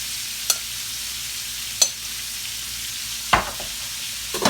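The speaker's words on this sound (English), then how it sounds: "I'm actually gonna cook this shrimp half the way off" Shrimp for shrimp scampi frying in a pan, a steady bright sizzle throughout with a few sharp clacks of the pan or utensil at intervals; no talking.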